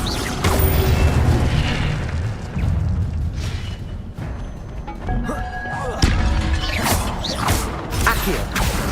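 Incendio fire spell cast in Hogwarts Legacy, a video game: loud whooshing blasts and crackling bursts layered over busy mechanical game sounds, with several sharp hits scattered through the clip.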